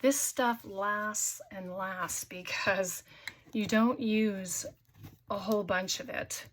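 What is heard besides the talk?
No everyday noise stands out behind the speech.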